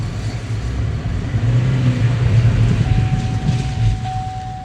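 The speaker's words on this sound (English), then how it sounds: "Whoa, that turbo is working overtime" Chevrolet Cruze with a bad turbo accelerating, a steady loud engine drone with a thin high whistle of turbo spool emerging partway through and holding, heard from inside the car with no talking.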